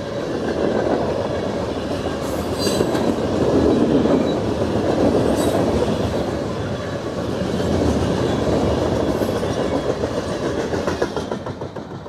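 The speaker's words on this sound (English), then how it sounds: "M500 headed north from Romney at Nortonville, Kentucky on the CSX Henderson Subdivision" A CSX M500 freight train passes at Nortonville, Kentucky, on the Henderson Subdivision: a loud, steady rumble with rhythmic clickety-clack of wheels over rail joints, sustained throughout and easing slightly at the end.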